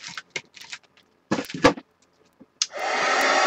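A heat gun drying a wrinkled napkin-collage art journal page: a few soft rustles and taps, then the gun switches on and blows a loud, steady, close rushing hiss to the end.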